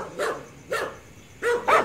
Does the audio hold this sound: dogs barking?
yes